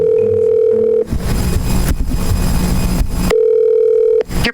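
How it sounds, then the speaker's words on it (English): An outgoing phone call rings back with a steady electronic ringing tone, first alone, then buried under a loud burst of broadband noise, then clear again before cutting off. "Let me try to call Wack."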